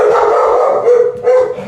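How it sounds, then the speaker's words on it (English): Dogs barking and howling indoors, a loud close burst of yips and drawn-out howls that rise and fall over under two seconds. "dogs."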